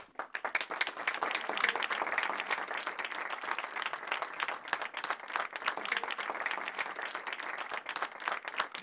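A village crowd claps steadily and densely for about nine seconds in a Syrian comedy scene, a continuous patter of many hands at moderate loudness with no talk over it.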